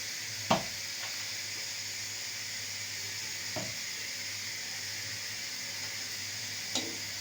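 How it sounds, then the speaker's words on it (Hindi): Moong dal masala roasting in a pan gives off a steady, soft sizzle throughout, with three brief spoon scrapes or clicks spaced a few seconds apart. "इसकी भुनाई करूँगी अच्छी से।"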